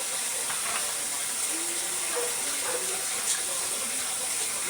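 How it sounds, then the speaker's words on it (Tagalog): Dishes are washed under running tap water, with a steady, close hiss of water flowing into a sink. Faint clinks of plates sound now and then beneath the stream. "Maghuhugas kami ng plato."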